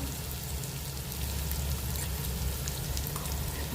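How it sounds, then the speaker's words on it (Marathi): Ginger-garlic paste fries steadily in hot oil in a pan for egg biryani, a continuous close sizzle with faint stirring, no talk. "आपली अद्रक लसणाची पेस्ट परतून झालेली आहे. आता आपण त्याच्यामध्ये मसाला टाकूया."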